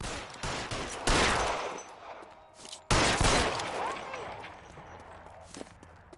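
Two sharp, loud gunshot blasts from L.A. Noire, each followed by a ringing, fading tail, with shuffling movement and faint sounds between them.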